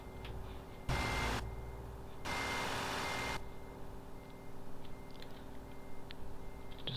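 Reversing beeps from a truck in Euro Truck Simulator 2, heard as two long, loud tone bursts close by over a steady engine idle, then fading to the low engine rumble.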